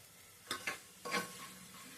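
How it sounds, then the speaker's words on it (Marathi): Tomato and coconut masala being sautéed in a pan: a few soft scraping stirs and a faint sizzle, quiet and close, with no voices. "अगदी 2 मिनिट हे व्यवस्थित परतून घ्यायचे, म्हणजे टोमॅटो पण व्यवस्थित शिजतो"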